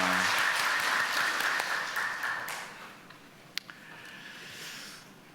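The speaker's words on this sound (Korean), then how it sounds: "하나님께 영광의 박수 올려드리겠습니다." A church congregation at a Sunday worship service claps together, moderately loud at first and then fading away within a few seconds, with a couple of stray claps near the end.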